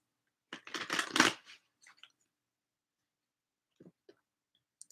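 Numerology cards shuffled by hand, a dense riffling burst lasting about a second, followed by a few faint isolated card taps and clicks in an otherwise quiet room.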